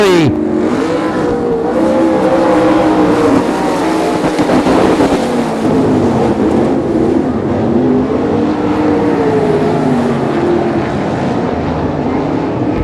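Race cars roar around a circuit during a race, several engines droning loudly and continuously at close range, rising and falling in pitch as they pass and accelerate through a turn.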